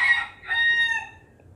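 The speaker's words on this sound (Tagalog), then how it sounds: "Ayan, nagtiktalaok ng manok." A rooster crows once in a short, clear call with a rising then falling tone, close by in the morning, with no talking over it.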